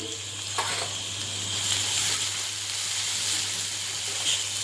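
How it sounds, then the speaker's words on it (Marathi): Mustard seeds and cumin sizzling in oil in a kadhai, a steady bright hiss with occasional small pops, close and continuous. "इथं मी कढईमध्ये 1 पडी असं तेल घातलेलं आहे। त्यात थोडी मोहरी आणि थोडंसं असं जिरं घालायचं।"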